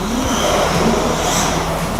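A radio-controlled LP-86 drift car accelerates hard around an indoor track, a loud, continuous high-pitched electric motor whine with tire hiss that holds steady and close throughout, with no talking.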